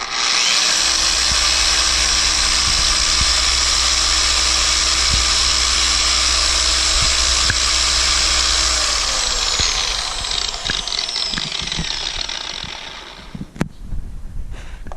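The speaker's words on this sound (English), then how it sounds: "Grab the machine polisher and this, get down low to the ground because this is gonna create some dust." A machine polisher spinning a pad against a brush to clean it, a loud close steady high-pitched whine with scraping texture that winds down near the end, followed by a few clunks.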